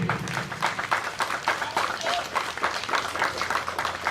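An audience at an outdoor veterans banner ceremony gives a light round of applause, with scattered hand claps pulsing unevenly over a few seconds and a little background voice activity.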